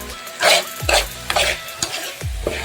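A spoon stirs potato curry seasoned with turmeric and salt in a pan, giving about five loud scraping sweeps at an uneven pace over a soft background sizzle.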